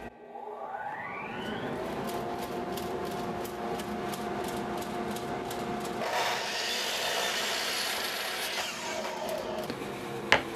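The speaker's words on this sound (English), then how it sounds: "I've got this dust collection box here that sucks in all the dust. Got it on a remote, just start it up, away we go." A dust collection box in a woodworking shop runs steadily throughout, a continuous broadband whooshing roar with a brief whine rising as it spins up at the start, loud and sustained with no talk.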